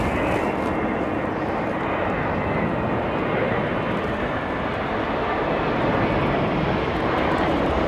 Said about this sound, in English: Look at that lovely old United 763 in the old livery.